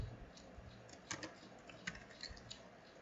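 Light, rapid keystrokes on a computer keyboard as a plugin name is typed into a search field, a quick irregular run of close, soft clicks with no talking.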